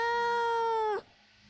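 A cat gives one long, clear, tonal meow that holds steady and then drops off sharply, followed by quiet room tone.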